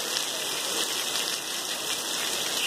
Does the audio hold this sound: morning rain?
yes